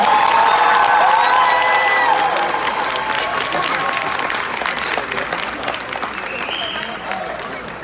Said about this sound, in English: Can you all give these top 10 a round of applause?